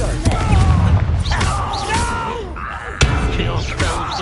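A Confringo blasting spell bursts in Hogwarts Legacy, with booming explosive hits around one second and three seconds amid busy combat noise and shouting voices.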